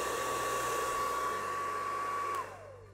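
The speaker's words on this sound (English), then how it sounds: "when I turn on my hair dryer," A hair dryer blows with a steady high whine and airy rush, close by, then switches off and winds down near the end.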